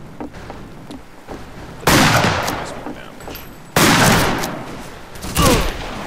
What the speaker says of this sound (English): And that's the pump shotgun, for anybody who's wondering.